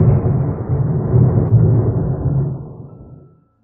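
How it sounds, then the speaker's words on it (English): A deep, rolling rumble of thunder swells and lingers for a few seconds before fading away into silence. "almost immediately, the rumble of thunder followed."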